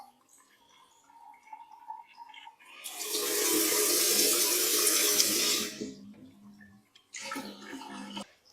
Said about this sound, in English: We test out our tap.